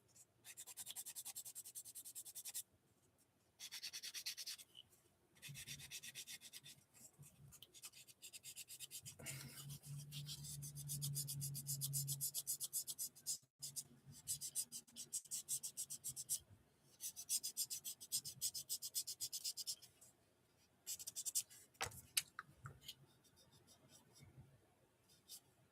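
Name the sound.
sanding a part by hand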